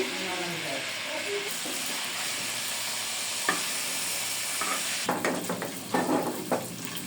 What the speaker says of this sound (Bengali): এইভাবে আমি নানগুলো ভেজে নিতেছি আর সাইডে এই যে চাপগুলো আমার প্রায় এখন আমি এভাবে ভেজে নেব